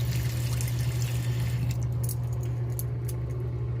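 Water runs steadily from a tap to rinse alcohol off a nose ring, a constant trickling pour over a low hum, with a few faint metallic clicks toward the end.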